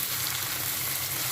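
Ginger, garlic and coriander paste fries with onions in a pan for a cabbage and moong dal curry, giving a dense, even sizzling hiss up close.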